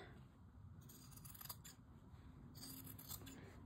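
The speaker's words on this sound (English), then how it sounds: "I'll show you how to do it with just regular scissors." Regular household scissors cutting through fabric for a sewing pattern, giving a few soft, close crisp snips and rasping slides against a quiet room hiss, with no talking.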